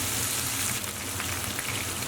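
Jamaican jerk steak sizzles in a hot pan just after being flipped, a steady close hiss and crackle that carries evenly throughout with no talking.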